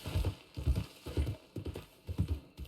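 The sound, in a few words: horse hooves clip-clopping in Red Dead Redemption 2 roleplay video game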